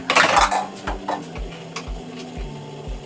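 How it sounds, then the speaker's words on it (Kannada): A small metal pan set down on a stove for frying with ghee makes a string of close, bright clanks and clinks, roughly six knocks spaced evenly, with no voices. "ಇವಾಗ ಒಂದು ಚಿಕ್ಕ ಪ್ಯಾನ್ ಇಟ್ಟಿದ್ದೀನಿ. ಇದಕ್ಕೆ ತುಪ್ಪ ಹಾಕಿ"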